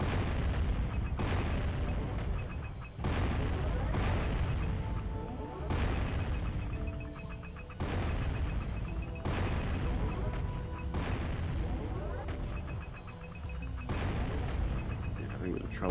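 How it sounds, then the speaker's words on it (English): A cannon in the Jak and Daxter video game fires repeatedly, with heavy booming blasts landing about every one to two seconds over a continuous loud rumbling game soundscape. "the second and final time we will ever use the cannon"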